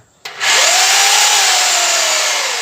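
A Foster FHD 2-26 DRE hammer drill switches on abruptly and runs at full speed, a loud, steady, buzzing roar with a vibrating hammer rattle that holds constant for over two seconds.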